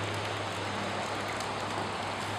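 Steady rain falls outdoors near a river, a dense, continuous hiss of drops close by with a low hum beneath it.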